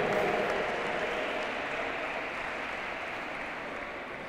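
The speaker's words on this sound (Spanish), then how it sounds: "un aplauso para ellos." Spectators at a cross duathlon race award ceremony applaud the relay winners, a broad, even patter of many hands that stays steady and slowly fades, heard from a short distance without talk.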